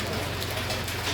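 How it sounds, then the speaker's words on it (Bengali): Hail falls during a mountain storm, a dense, continuous patter of hard drops striking surfaces, filling the air evenly at a constant loudness. "শিলা বৃষ্টি হচ্ছে।"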